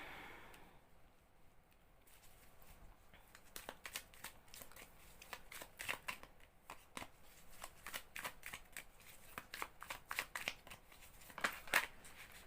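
Tarot cards being shuffled and drawn by hand: a quiet, close series of papery riffles, flicks and slaps that comes in irregular bursts and grows busier over time, with no talking.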